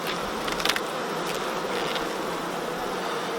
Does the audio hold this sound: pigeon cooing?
no